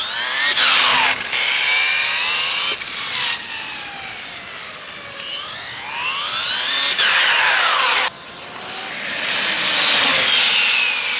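An Arrma Typhon RC car fitted with active aero air braking screams past in repeated high-pitched motor runs, its whine rising and falling in pitch as it speeds up, brakes and passes, loud and close with no talk.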